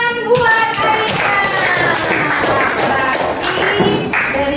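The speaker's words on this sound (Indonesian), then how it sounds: "Tepuk tangan buat Aina." A classroom of children clapping for a classmate named Aina during a lesson game, a dense burst of applause under cheerful kids' voices throughout.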